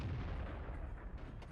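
A tank's main gun fires in World of Tanks, a T95E6 shooting at a T57 heavy, giving a deep, sustained booming rumble that fills the whole short moment.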